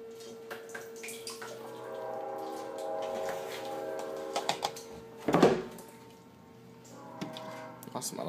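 Water runs steadily from the DI filter of a RODI unit, a faint continuous trickle and splash with clinks of handling and a brief louder gush partway through.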